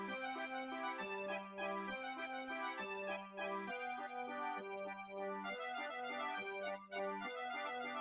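Music from the underground merry-go-round in Big Boo's Haunt in Super Mario 64 plays as a looping, eerie, waltz-like melody with a steady bass pulse, alone and fairly quiet.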